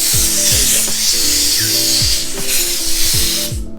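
An air-compressor-powered tool works on the clutch side of a 2018 Yamaha R3 motorcycle during a rearset fitting. It gives repeated short whirring bursts that drop in pitch, about five in quick succession, loud and close.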